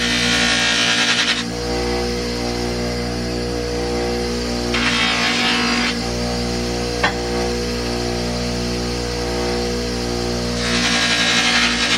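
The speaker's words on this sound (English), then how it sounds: "The only thing left to do is to polish these little brass screws." A power polishing tool runs steadily as small brass-plated steel screws from an antique 1910s door knob plate are buffed, a loud, constant motor whine with brief stretches where the grinding contact hiss intensifies.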